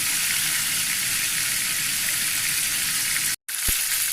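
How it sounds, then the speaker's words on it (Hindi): Chicken pieces frying in hot oil, a steady close hiss and sizzle that runs without pause, then a brief cut and a faint clink near the end. "तो अच्छे से इसको ऑयल में जब तक फ्राई करेंगे जब तक ये ब्राउन नहीं हो जाती।"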